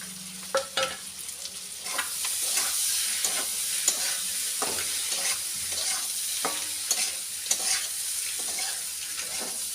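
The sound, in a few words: egg keema mixture frying in pan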